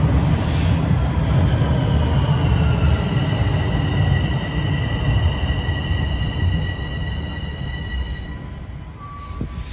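A Toronto Line 4 subway train screeches with high, sustained wheel squeal over a heavy, steady rumble, pulling in close and loud before easing slightly near the end.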